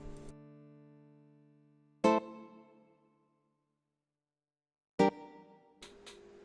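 Plucked guitar-like chords ring out separately with pauses between them, each decaying slowly into silence, played close and alone.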